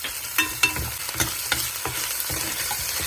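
Onions with ginger garlic paste sizzle steadily in a pan while a spoon stirs and scrapes, giving several sharp close clacks over the soft continuous frying.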